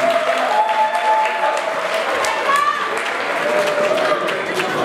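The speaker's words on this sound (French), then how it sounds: "j'aimerais que vous applaudissiez pour eux tout d'abord." Guests at a baptism and birthday celebration applaud steadily, a dense, moderately loud patter of many hands with faint voices and whistle-like tones under it.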